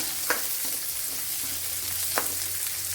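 A handful of shallots drop into hot oil in a frying pan and sizzle steadily up close, with a couple of sharp spatula clicks and no talk.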